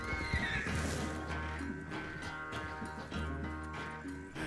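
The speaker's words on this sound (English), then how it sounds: "I thought my horses didn't want to run anymore." A horse in Red Dead Redemption 2 lets out a loud whinny near the start, followed by the steady clip-clop of hooves alongside in-game sounds.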